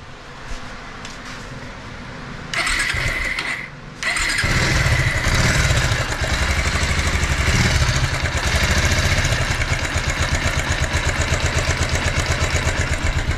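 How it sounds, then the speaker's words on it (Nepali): A Pulsar 220 ABS motorcycle engine with a piston ring fault cranks briefly, then catches and settles into a loud, steady idle with a rapid ticking rhythm, close by. "पहिला सुरुमा म बाइक स्टार्ट गर्छु है"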